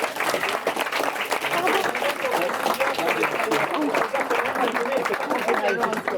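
A theater audience at a drag show claps for itself in a dense, steady burst of applause that lasts throughout, with crowd chatter mixed underneath.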